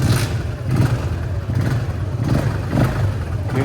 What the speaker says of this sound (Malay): Kena start pakai kaki lah.